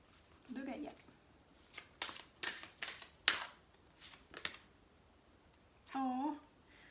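Gaia oracle cards being shuffled, a series of soft close riffles and slaps in short bursts, with a voice speaking quietly at the start and again near the end.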